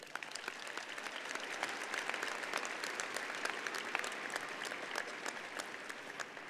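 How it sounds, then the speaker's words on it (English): A large crowd applauds the organizers at a community college commencement ceremony, steady dense clapping heard from a slight distance with no talk. "let's give all of you organizers a round of applause"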